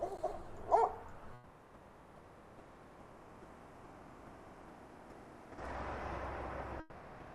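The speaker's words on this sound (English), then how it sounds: "There's a dog." A dog barks once early, a short sharp yap over a low outdoor rumble in a fire-burnt California neighbourhood, followed by quiet background and then a stretch of louder wind-like noise.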